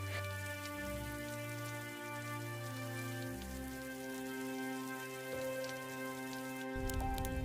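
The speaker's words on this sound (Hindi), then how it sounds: "लगातार होती बारिश ने गांव वालों को परेशान कर दिया।" Continuous rain patters steadily on surfaces in a village during cold weather, a soft, even hiss under ongoing background music.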